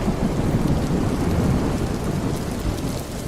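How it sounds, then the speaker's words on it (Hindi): Steady heavy rainfall with rolling thunder in a Hindi cartoon story, a dense continuous wash of rain noise with low rumbling throughout, fairly loud and with no voices. "और वर्षा होने लगी।"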